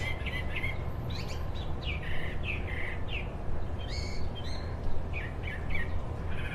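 Several birds chirp and tweet in short, repeated bursts over a steady air conditioner hum on a beach at Vanderbilt Beach, Naples, their calls bright and fairly close.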